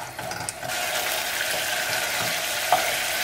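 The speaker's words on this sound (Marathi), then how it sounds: "एटलिस्ट फॉर 2 मिनिट्स आमी हो मसाला फ्राय करूया ऑयलान." Masala fries in oil for Goan prawn cutlets, giving a steady loud sizzling hiss with faint scraping and stirring clicks throughout.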